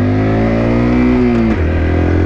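Honda Dax minibike engine holding a steady, loud close-up idle-to-rev drone, its pitch shifting as the gear is engaged partway through during a tight turn on the spot.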